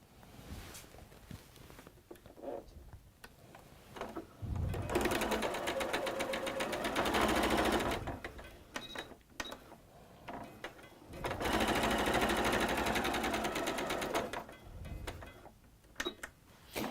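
Sewing machine stitching a seam in two long bursts of rapid, even mechanical stitching, separated and bracketed by quieter handling clicks and shuffles.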